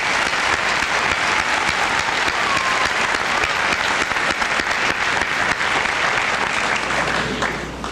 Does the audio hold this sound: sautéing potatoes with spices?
no